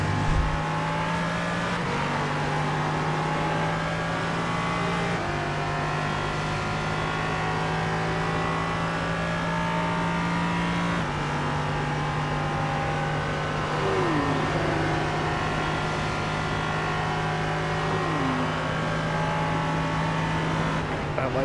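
A race car engine drones steadily through an endurance race, with a white BMW among the field. A sustained loud mechanical hum shifts pitch as gears change, with faint passing-car sweeps layered over it.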